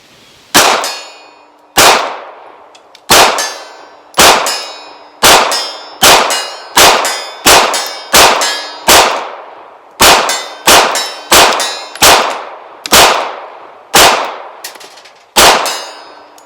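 A Bear Creek Arsenal Grizzly 9mm pistol firing with iron sights at steel targets about 50 yards out, around twenty sharp shots each followed by a bright ringing clang, in an uneven rapid rhythm, loud and close with no talk.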